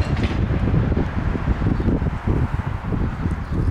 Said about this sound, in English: It's pretty windy, the wind's coming out of the north-northwest